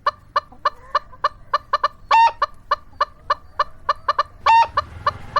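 A chicken clucks in a rapid, regular series of short sharp calls, close and clear, broken twice by a longer, louder squawk.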